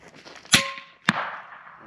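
An FX Panthera air rifle fires outdoors, a sharp close crack followed half a second later by a faint metallic clang of a distant hit, with a ringing tail.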